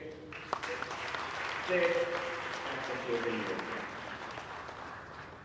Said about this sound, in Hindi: तो इसके लिए आप सब लोग जोर से तालियां बजाइए।